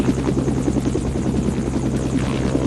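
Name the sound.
helicopter in a video game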